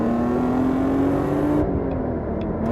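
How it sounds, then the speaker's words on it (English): BMW M3 engine revving on a racetrack, a loud, close, sustained metallic rasp with a rising pitch that holds steady before easing slightly, no voices over it. "the engine gets that nice metallic rasp"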